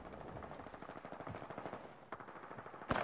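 Gunfire in the Apex Legends video game, with a steady stream of rapid shots rattling for about two seconds, then a brief pause and a sharp, louder burst of shots near the end.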